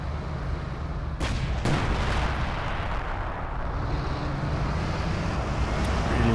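Off-map artillery barrage in Company of Heroes 2, a steady roaring rumble of distant shelling with two sharp impact cracks early on, continuous and heavy throughout.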